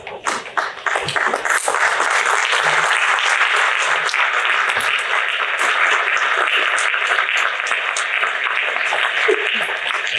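Sustained audience applause fills a theater during a community gala, a dense wash of many hands clapping, loud and steady after a few scattered first claps, with faint voices underneath.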